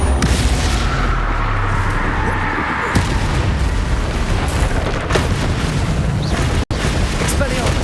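A Bombarda spell explodes during combat in the video game Hogwarts Legacy, a loud, dense blast of booming noise that fills the whole stretch without pause.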